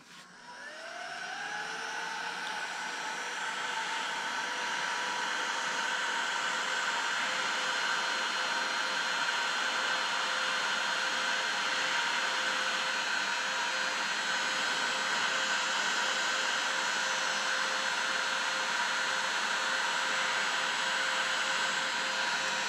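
A hot air heat gun used to shrink glue-lined heat shrink sleeves on battery balance lead terminals gives a steady, loud blowing whir with a fan whine, rising as it starts and then holding constant throughout.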